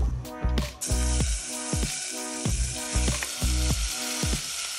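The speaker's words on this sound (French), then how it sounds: "Il faut que la poêle soit assez chaude. Il faut saisir les tomates, mais sans les accrocher" Tomatoes sear in a hot pan with olive oil, a steady loud sizzle running throughout, with a spatula scraping and stirring in a regular rhythm about once per second.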